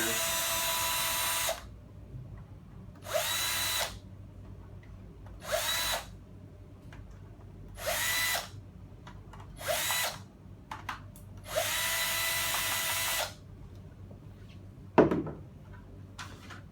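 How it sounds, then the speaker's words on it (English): A power drill removing screws from an AC-825 IP unit whirs in six short bursts separated by pauses, with light clicks and a clunk near the end. "You just remove those, and it's really easy to remove the AC-825 IP."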